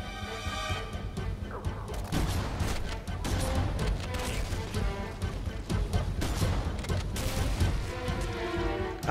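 Halo video game gunfire comes in dense, loud bursts of shots and crashes in close succession, with battle noise and brief pauses in between.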